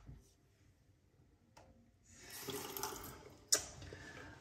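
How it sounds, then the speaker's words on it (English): After a shave with a badger brush, water runs briefly from a tap for rinsing, a soft close splash that swells and ends with a sharp knock. "So nothing missed, ready to rinse it off."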